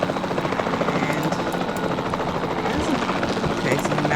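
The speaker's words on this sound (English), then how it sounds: "we actually get to drive the helicopter, which is cool" A helicopter flies in Jurassic World Evolution 2, its rotor chop a continuous pulsing drone with scattered game effects, while a person talks over it.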